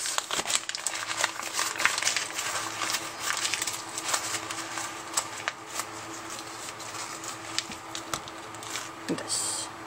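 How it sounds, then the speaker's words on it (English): Two sheets of paper crumpled together into a ball by hand, a long run of close crinkling and rustling with sharp crackles. "get your 2 pieces of paper and just crumple them up together like this"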